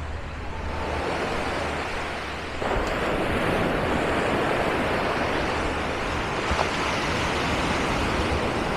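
Sea waves wash onto a Mallorca beach in a steady broadband surf rush, with wind buffeting the microphone and a slight surge partway through, loud and unbroken, no voices.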